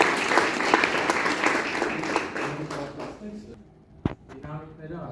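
Audience applause at the premiere of the first part of an Armenian history film series held by an educational movement: dense, loud clapping for about three and a half seconds, then tapering off as voices start talking.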